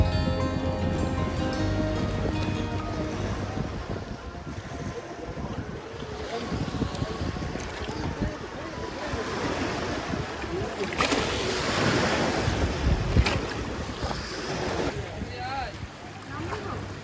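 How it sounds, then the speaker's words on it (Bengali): Seawater surges and crashes against bamboo stairs leading down to a beach camp on Mousuni Island. A continuous loud rushing wash, with wind buffeting the microphone, swells and recedes, and a voice talks over it. "জল একদম আছড়ে পড়ছে এখানে সিঁড়িতে"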